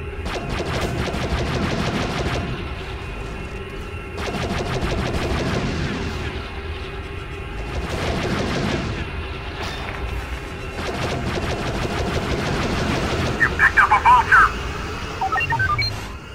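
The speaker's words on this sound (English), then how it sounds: "Their ship guns are pounding our shields." Starship guns firing in a Star Wars Battlefront II space battle, with bursts of heavy blasts and rattling volleys rising and falling over a dense rumble, and voices talking throughout.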